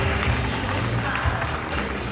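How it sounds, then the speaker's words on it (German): Audience applause for the winner of an art competition, a dense, steady burst of clapping from a crowd indoors, loud and continuous across the whole moment with no pause. "Also ein großer Applaus für Elisa Buchholz"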